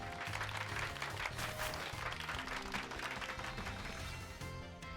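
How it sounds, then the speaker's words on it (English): Applause sound effect in the Pokemon Scarlet video game for Pikachu: continuous crowd clapping layered over game background music with tonal notes, steady and moderately loud. "give Pikachu a round of applause"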